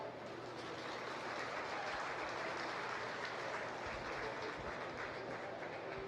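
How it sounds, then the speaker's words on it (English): An audience in a county fair livestock arena applauds the kids of a showmanship class, a continuous wash of clapping that stays even throughout, somewhat distant and diffuse. "Let's give them a round of applause."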